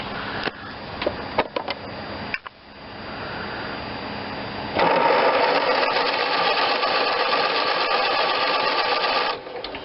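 Kohler 16hp engine on a John Deere LT160 lawn tractor, choke applied, cranking with a steady mechanical whir, a short pause, then a louder sustained churning run that cuts off near the end, close and loud.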